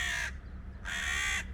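Large gray crow-like birds with black wings on the Croatian Mediterranean coast give two loud, harsh caws in quick succession, close by and alone.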